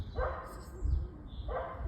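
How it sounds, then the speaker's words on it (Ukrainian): A dog outdoors barks at a tree, giving two short, moderately close barks about a second apart over quiet background. "Він завис біля того дерева і гавкає."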